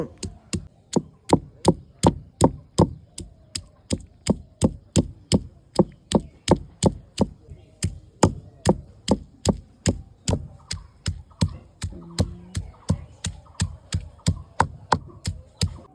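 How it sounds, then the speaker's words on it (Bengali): Garlic being crushed with a pounding tool, producing a long steady series of sharp, regular thuds at roughly two per second, close and loud, with no talk. "মশলার জন্য শুধু নিয়ে নিয়েছি রসুন থেতো করে নেব।"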